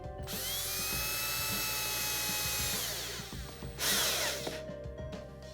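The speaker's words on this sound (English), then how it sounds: "we're just going to take advantage of one of the holes in the front of our miter gauge and simply drive a screw through that" A power drill whines steadily as it drives a screw through a hole in a wooden miter gauge shooting board, the motor pitch rising and falling near the end with a brief ratcheting finish.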